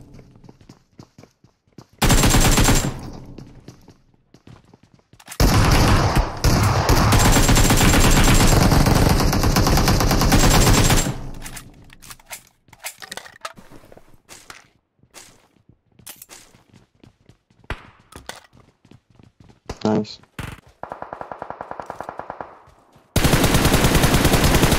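Bursts of automatic gunfire from PUBG Mobile on the snowy Vikendi map, with loud sustained rapid-fire stretches separated by quieter gaps of footsteps and movement, then another heavy volley near the end.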